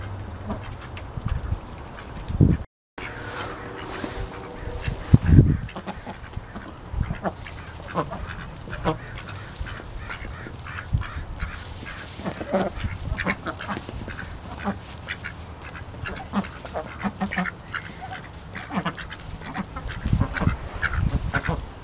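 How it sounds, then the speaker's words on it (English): Ducks quack repeatedly near a farm fence, a busy, irregular chorus of short nasal calls, some close and loud, others softer, with occasional goose-like honks and bits of background noise between. "Good chappy ducks."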